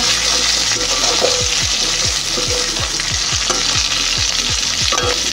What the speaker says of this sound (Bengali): এবার দেবো সামান্য একটু টমেটো, খুব বেশি নয়, অল্প টমেটো। তো এটা দিয়েও ভালো করে একটু নেড়ে চেড়ে নেব।